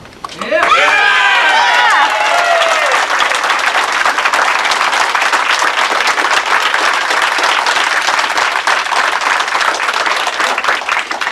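Loud, dense audience applause at a council meeting right after a vote, beginning abruptly and holding steady throughout, with a brief tonal sound at the start.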